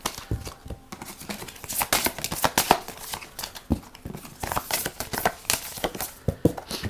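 Romance Angels oracle cards are shuffled by hand in a close, crisp series of rapid riffling and flicking bursts that repeat in an irregular rhythm for several seconds, with no speech.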